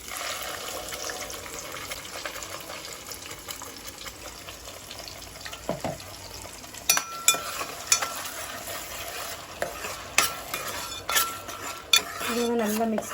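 A utensil scrapes and clinks against a pan, stirring ground masala for paneer gravy in uneven strokes over a soft, steady sizzle of frying.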